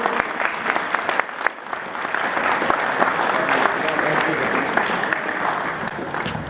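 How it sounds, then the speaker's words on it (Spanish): A crowd at a Toronto-Cuba Friendship Day event applauds steadily and loudly, a dense wash of clapping that holds for several seconds. "Vamos a dar un aplauso fuerte."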